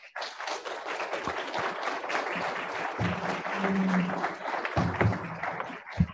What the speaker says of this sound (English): round of applause for Jake and Lee